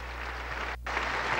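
The faithful applaud Pope Francis as he speaks, with a brief, steady wash of distant crowd clapping over a low hum and a short dip partway through.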